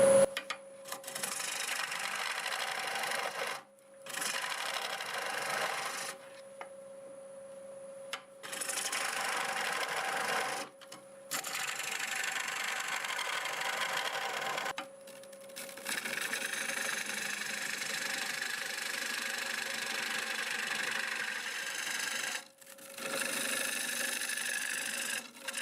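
Wood lathe at 750 RPM turning a very hard wood bowl with a 1/2-inch bowl gouge, giving a steady whine with scraping cuts in several bursts separated by brief pauses.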